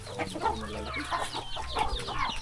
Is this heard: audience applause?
no